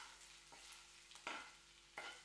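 Frying pan sizzling while carbonara cooks, a steady hiss with a few sharper crackling bursts and the clatter of stirring, close and moderately loud with no talking.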